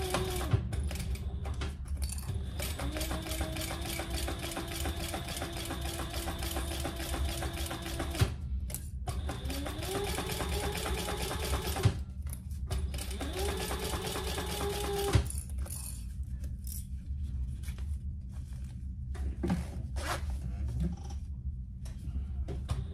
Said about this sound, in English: let's sew that together at the full seam allowance